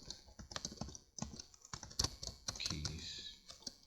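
Rapid, uneven keystrokes on a computer keyboard, close and fairly loud, clicking in bursts while someone talks over them.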